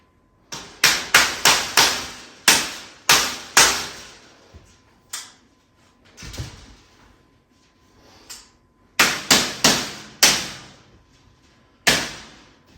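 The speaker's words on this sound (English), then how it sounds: "Let me just hammer some of these in flush." Roughly a dozen sharp hammer strikes drive the cross rails of a 4x2x2 dubia roach enclosure flush. They fall in quick bursts of three or four, separated by short pauses and a few softer knocks, and nobody speaks.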